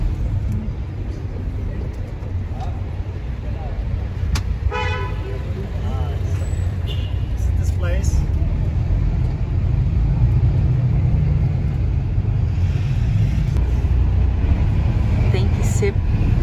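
Hop-on hop-off tour bus driving along roads on Gozo, Malta, heard from the front seat: a steady low engine rumble throughout, with a couple of short horn toots, while people talk over it.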